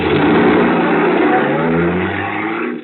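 A car drives in a radio drama sound effect, a loud, close engine revving and accelerating continuously, then easing off at the end, with no voices.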